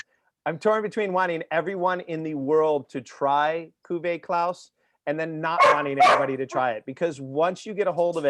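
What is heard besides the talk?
dogs barking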